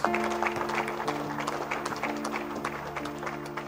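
A church congregation applauds in a steady mass of clapping, spread evenly and fairly close throughout, with a sustained tonal hum running underneath.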